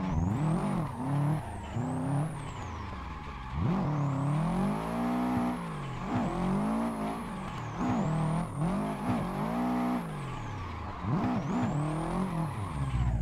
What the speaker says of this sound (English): A little bit of hooning through through the streets of Grand Theft Auto 4.